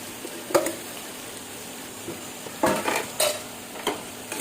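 Mutton curry is stirred in a pan with a metal spoon, giving a soft sizzle under several scraping, clinking strokes that come in short bursts, close and moderately loud.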